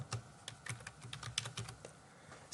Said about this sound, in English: I'm going to do the typing for this particular slide.